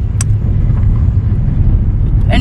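A car driving along a long gravel road in Zimbabwe, its low tire and engine rumble steady and close inside the cabin, with brief clicks and knocks.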